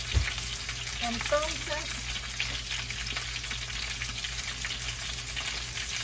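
Chicken and onion sizzle in a hot pan, a steady soft frying hiss with a brief stir near the start while a voice speaks quietly over it.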